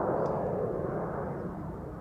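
A KLM Boeing 787-10 Dreamliner departing Amsterdam Schiphol gives a broad, steady jet roar from some distance, easing slightly in loudness, with no talk.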